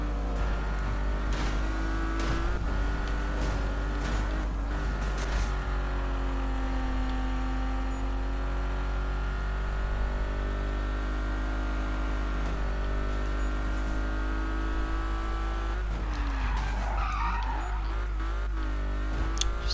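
A Porsche 911 RSR 2.8 races in the Need for Speed video game: a continuous engine drone rises and falls through gear changes, and tires squeal near the end.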